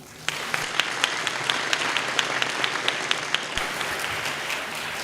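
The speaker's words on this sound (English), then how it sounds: "Please join me in another round of applause to thank our past division chairs for their service to the Electrochemical Society." Audience applause at an Electrochemical Society plenary session, honoring past division chairs: a steady wash of many hands clapping that starts abruptly and holds at an even, moderately loud level, with a few sharper individual claps standing out.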